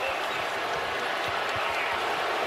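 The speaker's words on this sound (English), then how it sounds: "The crowd loud and a little ornery right now." A loud basketball arena crowd at an NBA Finals game between the Thunder and Pacers: a dense, steady roar of cheering and shouting fills the space, with faint ball bounces beneath and a commentator's voice partly audible.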